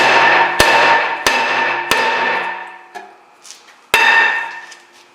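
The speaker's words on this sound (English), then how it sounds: "you can use my favorite tool, a hammer. And you hit it there a couple times" Sharp metallic hammer strikes on a brake rotor of a 2011-2019 Jeep Grand Cherokee, four ringing blows with a long shimmering decay, plus a few faint clinks between them.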